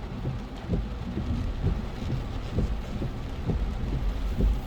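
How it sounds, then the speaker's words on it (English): Heavy rain from tropical storm Elsa in Jamaica during a drive, a steady dense wash of drops with low rumbling thumps, continuous and fairly loud throughout. "it's a passage of tropical storm Elsa, and it's a rain drive"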